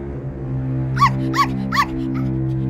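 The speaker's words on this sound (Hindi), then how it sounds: "लेकिन जब डोरेथी का डॉग भौंकने लगा तो शेर डर गया।" A small cartoon dog barks three quick yaps over a sustained musical background, in a Wizard of Oz fairy tale scene.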